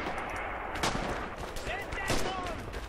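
Sniper rifle fire in Red Orchestra 2, a Stalingrad-era battle with dense gunfire and shots popping over a steady combat din, while voices talk faintly underneath.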